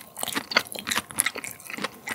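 Raw Korean hanwoo beef of 1++ grade is chewed close to the mic, giving soft, wet, squishy bites in an uneven rhythm over two seconds of quiet.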